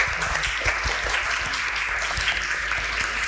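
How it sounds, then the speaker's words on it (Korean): An audience at a Korean life-mentoring panel event applauds in a continuous, even patter of many hands. The clapping stays steady and fairly loud throughout, with no speech over it. "격려의 박수를 드리고 싶습니다."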